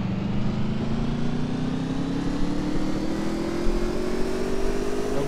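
Race car in the NASCAR Legends video game, a loud steady engine drone with its pitch slowly rising as it accelerates, with no talk over it.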